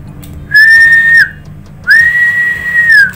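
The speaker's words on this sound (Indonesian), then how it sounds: "saya milih siulan aja biar nggak terlalu berisik" Two loud, clear sustained whistles, each held for under a second, made by a person testing the SWR of a 40 m band wire dipole antenna with a Kempro KA 50 balun.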